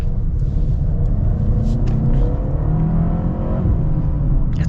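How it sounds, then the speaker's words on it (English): A 2024 Mercedes GLB with a turbocharged four-cylinder pulls hard under acceleration, its engine drone rising steadily over loud road rumble from inside the cabin, with no speech. "for a turbo 4-cylinder, this thing's got some power"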